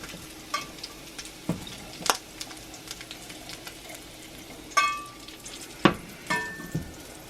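Bacon crackles in a cast iron pan, a quiet low sizzle broken by several sharp pops and spatula scrapes spaced unevenly across the stretch.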